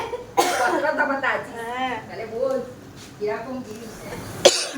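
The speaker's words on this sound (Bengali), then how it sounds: "আমিও কাশছি" A woman coughs several times in a home kitchen, irritated by green chilli heat, short harsh bursts close to the mic mixed with her talking.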